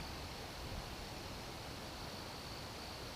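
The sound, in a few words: rain dripping down from the trees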